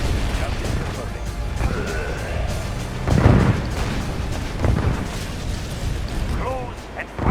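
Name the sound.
artillery fire and explosions in the video game Yuri's Revenge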